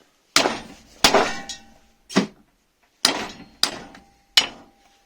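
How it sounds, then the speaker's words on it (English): Six sharp metallic blows from a rusty hammer on a Toyota Corolla bushing held in a vise, irregularly spaced about a second apart, each ringing briefly before fading, close and alone. "I'm just going to get out this nice rusty hammer, bro. I'll just give it a bit of a hit."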